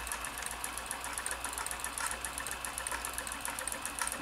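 A vintage Janome Combi DX 502 sewing machine runs a steady stretch stitch, giving a fast even needle patter over a low motor hum, close and moderately quiet.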